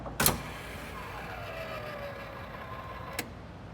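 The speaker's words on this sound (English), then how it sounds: "Electric closing trunk." A 1976 Cadillac Eldorado Bicentennial's electric trunk pulling itself shut: a sharp click at the start, a soft whirring motor drone for about three seconds, then a final latch click, all quiet and close.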